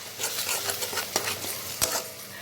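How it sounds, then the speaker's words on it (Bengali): Spice paste for an egg curry sautéed in a pan after a little water is added, soft sizzling under repeated scraping and clinking stirs of a spoon against the pan, close and quiet. "জল দেওয়ার পর আমি মশলাকে আবার কষিয়ে নেব।"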